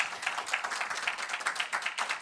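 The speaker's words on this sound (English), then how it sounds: "Round of applause for our speakers," Clapping for panel speakers at a smoke-free harm-reduction report launch, a small group's uneven hand claps in quick, bright bursts, moderately close and with no talk over them.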